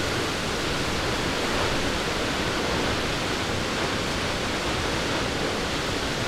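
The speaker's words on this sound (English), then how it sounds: "And the waterfall is quite spectacular." A spectacular waterfall in a nature valley roars with a steady, loud, broadband rush of falling water. The sound holds evenly from start to finish, with no voices.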